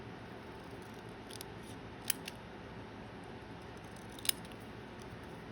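Scissors cutting down a photo print, a few faint, sharp snips spaced apart over a quiet background, with one clear cut near the start and another later.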